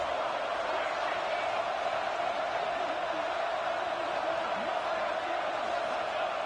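A football stadium crowd roars in a steady, dense wash of cheering during a tense two-point conversion attempt, continuous and loud with no breaks.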